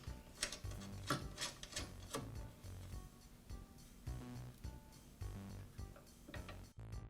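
A nut is tightened on the height adjustment lever of a Southland lawn edger, giving close ratcheting clicks and metallic grinding in uneven repeated bursts.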